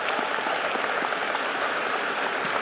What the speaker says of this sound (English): Can we have one more round of applause, please, for our outstanding students?